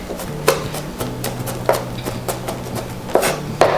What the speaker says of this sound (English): Rock your knife through to chop it into finer pieces